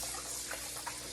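Tap water pours over flour dough being rinsed for seitan, a brief, steady hissing stream with small splashy bursts, close and continuous.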